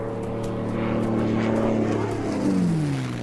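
A light propeller airplane passes overhead above the vast Australian desert, its steady engine drone loud and close, the pitch sliding downward as it moves past over a few seconds.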